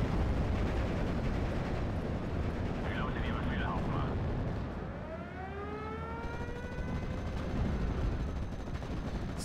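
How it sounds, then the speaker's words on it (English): Cannon fire in the Steel Division: Normandy 44 war game, heard as a dense, continuous roar of battlefield blasts and gunfire with a rising whine passing through, loud and unbroken throughout. "Since my cannon here is still suppressing well that guy."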